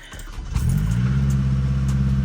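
Mazdaspeed 3 firing up from a cold start, settling into a steady, loud idle with a faint metallic timing-chain rattle beneath the engine drone, close up with no talking.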